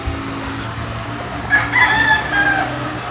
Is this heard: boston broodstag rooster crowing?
yes